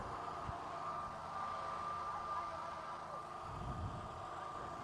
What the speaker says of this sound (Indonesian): Biarkan dulu mobil komando parkir.